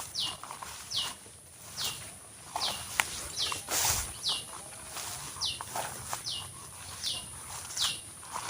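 A bird repeats a short, bright call at a steady rhythm, about once a second, in a forest with a quiet backdrop, light rustling and occasional footsteps.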